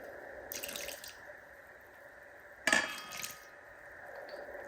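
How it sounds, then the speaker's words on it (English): Water is poured into a bowl sitting on a kitchen scale in faint splashy bursts, with one louder pour in the middle. The sound is close and quiet, and no one talks. "Here's 8 ounces of water."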